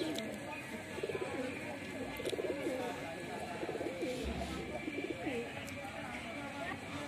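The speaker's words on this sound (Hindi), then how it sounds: "सारे कबूतर मतलब इधर से उधर गुटक भी रहे" Pigeons coo repeatedly in soft, throaty bursts, several birds overlapping at close range against a low background hum.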